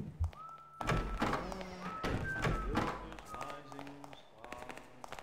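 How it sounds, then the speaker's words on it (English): Footsteps on creaky walkways in the stealth game Thief, a run of hollow thunks and taps at a steady walking pace, with game voices and tonal effects mixed in. "Some noisy damn floors."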